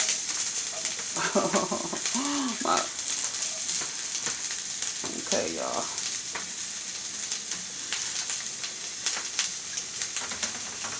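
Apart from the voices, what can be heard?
pot boiling and food sizzling on the stove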